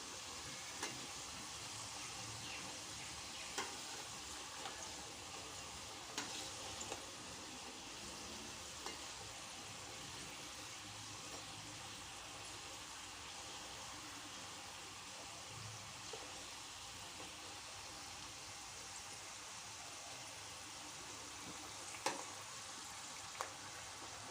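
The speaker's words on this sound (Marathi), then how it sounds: "सर्व करंजा आपण अशाच प्रकारे तळून घेऊया" Dry fruit karanji (gujiya) pastries deep-frying in oil, a steady soft sizzle and bubbling hiss throughout with a few faint clicks, no voices.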